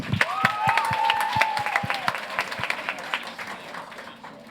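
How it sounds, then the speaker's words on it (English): A burst of applause from a crowd, dense clapping that gradually thins out, with a voice briefly audible over it. "Please let's give her a round of applause."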